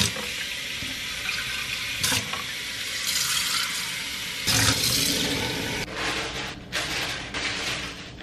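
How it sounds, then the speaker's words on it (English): Super cold tap water runs into glass vases one after another, a steady splashing gush that shifts in pitch as each vessel fills, with brief pauses and clinks between. "So I'm just gonna fill all three of these up with super cold water"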